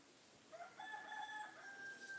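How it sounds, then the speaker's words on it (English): A rooster crows once in a remote village, a clear drawn-out call that sounds somewhat distant and quiet over faint background hush. "I'm sorry for the roosters"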